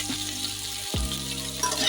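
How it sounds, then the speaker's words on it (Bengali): Apple pieces and black grapes frying in a pan on a low flame for a fruit chutney, a steady soft sizzle with a brief stirring scrape midway, close and alone. "এটা লো ফ্লেমে ভাজতে হবে।"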